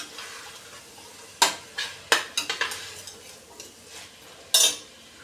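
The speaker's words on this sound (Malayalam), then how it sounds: "ഇത്രയും ഇട്ടതിന് ശേഷം നല്ലവണ്ണം ഇളക്കി കൊടുക്കണം." Carrot, tomato and other vegetables being stirred in a pressure cooker for a vegetable biryani. A utensil scrapes and clinks against the metal pot in quick, uneven strokes over a soft sizzle, close and alone.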